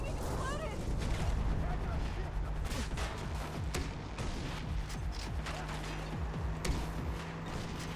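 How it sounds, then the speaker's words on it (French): Explosions and gunfire crackle in the video game Far Cry 3, a dense run of blasts and shots with someone talking over the noise throughout. "See that explosion?"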